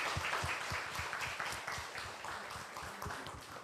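A church congregation applauding the middle and high school youth group, a quiet burst of many hands clapping that slowly fades over a few seconds.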